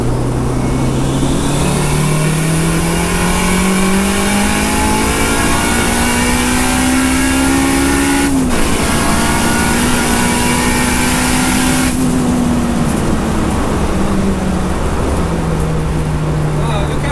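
A turbocharged 420 bhp Honda Civic Type R EP3 accelerates through the gears, its loud close-up engine note climbing steadily with a shift break midway, while someone talks over the drone.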